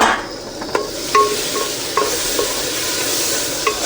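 Tomato masala fries in a pan with a steady, close sizzle while a spoon stirs it, giving a few sharp metallic scrapes and taps against the pan's sides.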